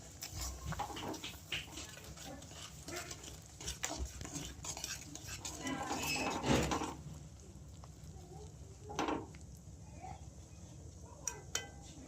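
A spoon stirs sugar into a cooking pot, giving repeated close scraping and clinking strokes in an uneven rhythm, with a soft sizzle beneath and brief pauses.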